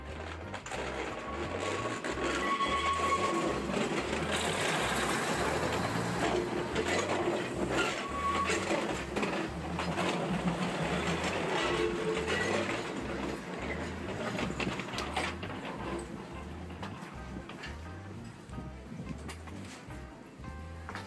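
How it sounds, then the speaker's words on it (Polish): A train rumbles past at close range through the middle of a shopping arcade, with steady rhythmic clatter of wheels over rail joints, loud and continuous throughout amid busy background noise. "przez sam środek pasażu przejeżdża pociąg"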